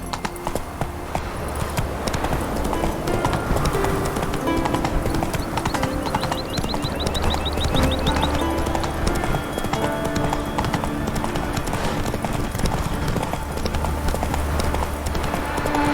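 Horse hooves gallop in The Witcher 3: Wild Hunt, a loud, continuous rhythmic clip-clop that runs throughout, with faint in-game music and effects layered beneath.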